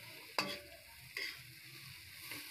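Sautéed chayote and cabbage stirred in a pan, a faint low sizzle with two distinct scrape-and-clank stirring strokes and a softer third toward the end, no voices.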